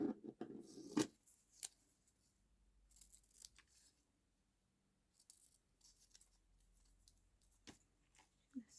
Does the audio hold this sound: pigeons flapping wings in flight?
no